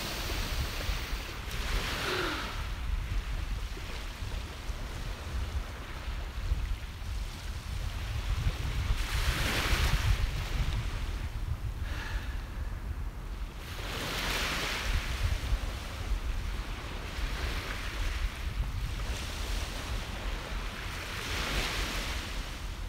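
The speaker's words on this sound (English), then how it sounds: "soak in a little more of this beautiful sound of the waves" Ocean waves wash onto a beach in a steady, repeating surge every few seconds, with light wind noise and no voices.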